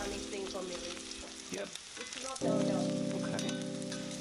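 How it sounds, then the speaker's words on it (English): A room-temperature steak laid on a hot Kamado barbecue grill beside a frozen steak starts sizzling: a steady background hiss swells into a loud, close, crackling sear that holds to the end. "I'll chuck the room temperature steak on the barbecue right next to the frozen steak."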